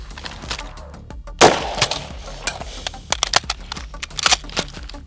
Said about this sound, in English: I'll have to use the charging handle.